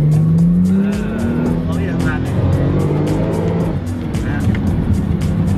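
A sports car engine revs loudly and steadily, its pitch rising and shifting, with tire noise and people talking over it.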